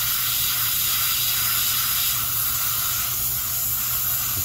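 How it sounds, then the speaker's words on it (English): Paint spray gun applying paint to a Chevelle: a steady, loud, close hiss of continuous spraying that holds evenly throughout with no talk. "all of a sudden whatever that was moved out, and now it's spraying"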